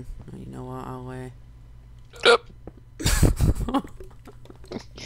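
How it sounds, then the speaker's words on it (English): A single sharp hiccup bursts out around the middle of a Minecraft multiplayer session, short and close, after a spoken phrase and followed by people talking and laughing. "That was a hiccup."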